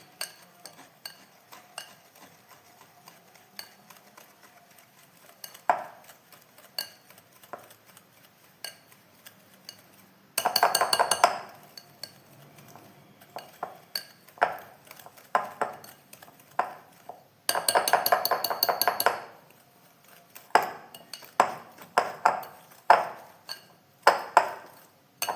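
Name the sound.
mixing coconut biscuit ingredients with sugar in a bowl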